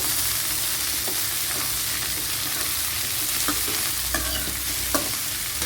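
Ivy gourd and onions fry in a pan while being stirred, a constant oily sizzle broken by several sharp scrapes and clicks of the spatula against the metal.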